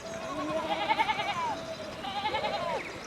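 Sheep in the video game Pentiment bleat in two wavering calls, one after another over a steady ambient backdrop, fairly close and clear with no talk.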